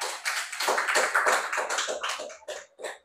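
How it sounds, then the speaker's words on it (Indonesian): A classroom of students applauding group 4: a burst of many hands clapping in quick, uneven rhythm, close and lively, tapering off toward the end with a few final claps. "tepuk tangan untuk kelompok 4"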